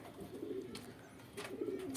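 Pigeons in a fancier's loft coo low and steady, a soft close warbling that rises and falls over faint background noise.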